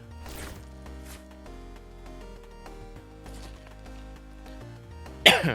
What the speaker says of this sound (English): Still have a little cough.